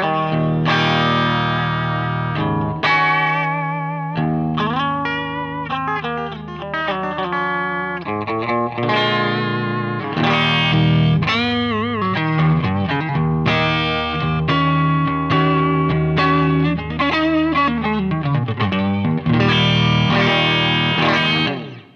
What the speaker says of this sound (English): I'm going to play through the Pod Pro a little bit and show you kind of the sound I've got set up.